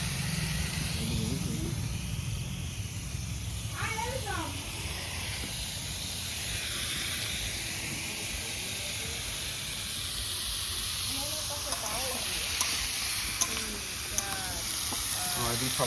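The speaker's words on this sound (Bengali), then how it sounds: "তারপরে সবজি দিয়ে ভেজে নেবেন আমি" Mixed vegetables frying in a large wok for winter picnic khichuri, a steady, close sizzle and hiss of oil with occasional stirring, while people talk intermittently in the background.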